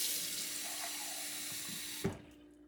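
Tap water runs steadily into a cup in a home kitchen while half a cup is measured for a beef and tofu stir fry, a continuous close splashing stream that cuts off abruptly near the end with a brief clunk.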